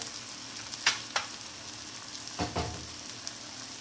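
Ground coriander, cumin powder and garam masala being sautéed in a pan for a cucumber curry: soft sizzling with a few brisk scraping strokes of a spoon, brief and close, no talking.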